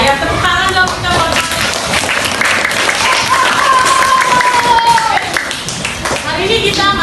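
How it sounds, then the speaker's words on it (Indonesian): Classroom applause during a science lesson on states of matter: a dense run of clapping from many children, continuous and fairly loud, with young voices and chatter mixed in. "tepuk tangan dong kita buat"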